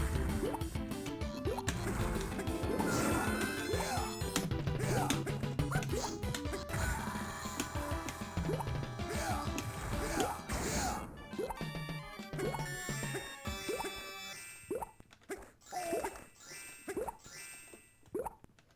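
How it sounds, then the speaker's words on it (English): Water drips steadily in a PolyGame Master belt-scroller arcade game, set against loud, busy game music and effects; the music thins out near the end. "I like the dripping noise that's still happening."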